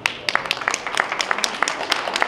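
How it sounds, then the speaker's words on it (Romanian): Audience clapping at a book launch, a steady patter of hand claps from a modest crowd in a room, fairly close and even, with faint voices underneath. "Haideți să-l aplaudăm mai cu vârmă."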